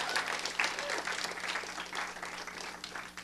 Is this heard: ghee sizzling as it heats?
no